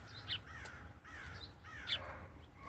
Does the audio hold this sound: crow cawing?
yes